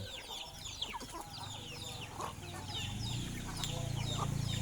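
Young chickens on a Thai farm cluck and peep in repeated short calls, close and fairly lively, over a low steady hum that swells toward the end.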